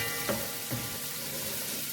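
Okra frying in a pan while it browns, a steady soft sizzle with a couple of faint stirring scrapes, no voices.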